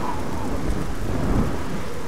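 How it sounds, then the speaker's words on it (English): Steady, heavy rain pours without pause in the fantasy video game Oblivion, with a low rumble of thunder underneath, forming a dense, continuous wash of sound. "oh, the rain is finally dissipating"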